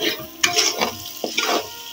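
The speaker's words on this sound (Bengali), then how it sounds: "এটা এখন ভালো করে নাড়াচাড়া দিয়ে মিক্স করে নিতে হবে।" Spice paste with ground garam masala frying in a pan as it is stirred, with a spatula scraping in short irregular strokes over a bright sizzle, close and fairly loud with no voices.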